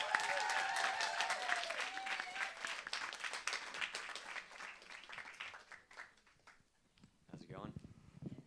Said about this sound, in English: can you help me give a big round of applause